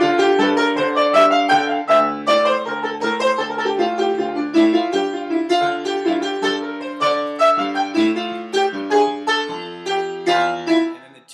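Solo jazz piano improvises a beginner-level line that wanders around the scale with leaps, stepwise notes and held tones over a left-hand accompaniment, clear and close with no voices.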